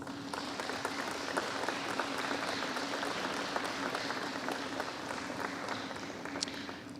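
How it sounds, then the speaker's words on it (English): Steady applause from the audience at a National Honor Society induction ceremony, a dense, even wash of clapping that holds at a constant level for the full seven seconds with no speech over it. "Please give them a round of applause."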